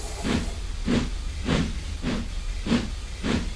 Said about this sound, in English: He found the wagons, coupled up, and steamed quickly away.